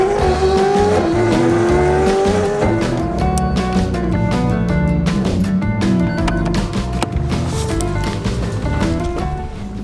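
A 950-horsepower McLaren supercar on a wet road, its engine roaring loudly and rising through revs with tyre squeal, continuous and close throughout.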